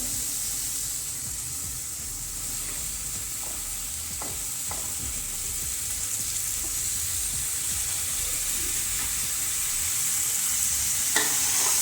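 Diced tinda (round gourd) dropped into spiced masala frying in a pan, giving a steady, loud sizzle and hiss with light stirring scrapes that grows slightly stronger toward the end, and no talking.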